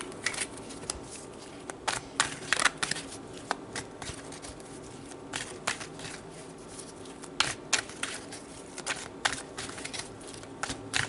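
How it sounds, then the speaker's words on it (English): Tarot cards being shuffled by hand, with repeated quick papery riffles and soft slaps in irregular bursts, close and fairly quiet. "let's pull some cards"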